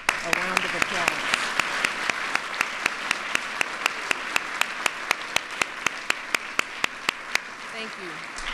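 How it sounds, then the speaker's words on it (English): An audience at a First Lady's youth arts and humanities awards event bursts into steady, sustained applause, many hands clapping densely for several seconds, with sharp individual claps standing out. "you should give yourselves a round of applause"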